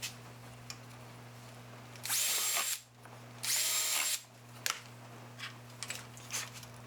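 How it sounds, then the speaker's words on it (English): A power drill bores holes into a wooden wall cabinet in two loud, close bursts of about a second each, separated by quiet pauses and small handling knocks, under a steady low hum. "Okay, so we have all our holes drilled."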